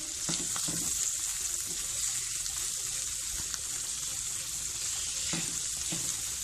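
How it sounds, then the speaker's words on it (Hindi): Finely shredded chicken cooking in a pan over medium flame, a soft, steady sizzle with occasional clinks and scrapes from a spoon stirring continuously. "बस हम इस चिकन को 1 मिनट कुक करेंगे मीडियम फ्लेम पे, लगातार इसी तरह से चम्मच चलाते हुए।"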